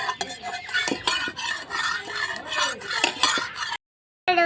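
Vegetables cooking in mustard oil are stirred in a pan, with continuous close scraping and metallic clatter of the utensil over a light sizzle, then a brief silent gap before the stirring starts again; no talking.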